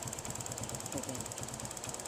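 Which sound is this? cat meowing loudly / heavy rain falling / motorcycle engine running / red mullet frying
motorcycle engine running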